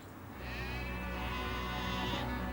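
Several sheep bleat together in a sustained, overlapping chorus, loud and close, filling the whole stretch without any talk.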